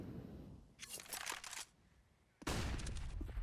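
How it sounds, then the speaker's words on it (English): Gunfire in Counter-Strike: Global Offensive during a pro match between Vitality and Heroic, two short bursts of rapid shots separated by a quieter gap, crisp and loud against low game ambience. "missing his shot gives Downs a chance to collect a double of his own"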